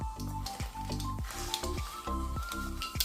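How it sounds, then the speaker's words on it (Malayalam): Mustard seeds crackle in hot coconut oil in a pan, a soft hissing sizzle with repeated stirring scrapes coming every half second or so, fairly quiet and close. "വെളിച്ചെണ്ണ ചൂടായി വരുമ്പോൾ ആവശ്യത്തിനുള്ള കടുക് ഇട്ട് കൊടുക്കാം."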